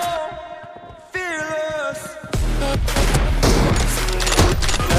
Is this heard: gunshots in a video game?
yes